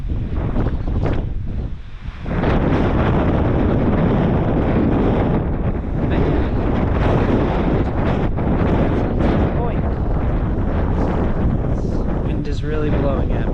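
Strong wind buffets the microphone outdoors on a warm spring day in Utah, a loud, continuous roaring rumble that fills nearly the whole stretch with only a brief lull.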